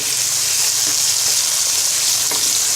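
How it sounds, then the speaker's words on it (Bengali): Chopped onion and tomato fry in hot oil for a Bangladeshi chicken noodle soup, giving a loud, steady, close sizzle that runs unbroken with no talking. "পেঁয়াজটা ভাজা হয়ে গেলে এবার দিয়ে দিব আধা কাপ পরিমাণ টমেটো কুচি।"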